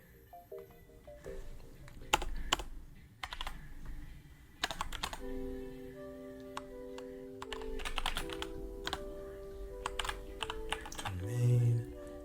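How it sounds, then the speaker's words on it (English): Typing on a computer keyboard into a word-processor document, with irregular clusters of sharp, close keystroke clicks spread across the clip under a soft background tone and faint murmuring. "And I'm just typing it out in my Word document."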